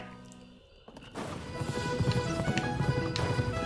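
Horse hooves clip-clop in the video game Pumpkin Jack, a quick galloping patter of thuds running over game music after a quieter opening.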